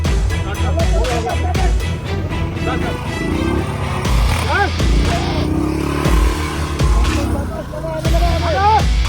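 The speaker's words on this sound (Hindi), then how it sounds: "क्लच छोड़ दे! रेस दे और जोर से!" A motorcycle engine revs and strains while crossing flood water, rising and falling in bursts, close and loud under excited shouting from several people.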